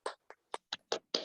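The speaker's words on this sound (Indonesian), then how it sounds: "Bagus, silakan tepuk tangan." Children clap their hands in a classroom in six separate bursts, the last one longer and spreading into a brief ragged round. Each clap is sharp, close and fairly loud, with short silences between them.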